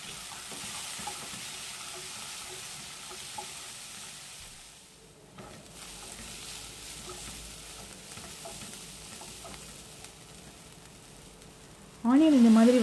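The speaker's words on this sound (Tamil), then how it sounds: "4 பச்சை மிளகாய் போட்டு வதக்கிடலாம்." Two big cut onions and four green chillies sauté in hot groundnut oil in a nonstick pan, giving a steady, close frying sizzle for the whole stretch, with a brief louder stir near the end.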